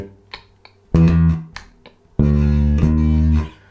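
Bass guitar plays the opening two bars of a simple, groovy beginner bass line, with a few soft plucks leading into two long, loud sustained low notes, played alone and close.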